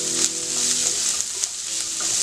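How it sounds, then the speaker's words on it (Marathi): Chopped onion with cumin seeds, mustard seeds and garlic sizzling in a hot pan for a green tomato bhaji, a steady close frying hiss with faint stirring scrapes. "चांगलं परतून घेऊया"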